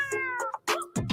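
A cat meows several times in short, separate calls, close and clear, with a brief whining caterwaul among them and no talking.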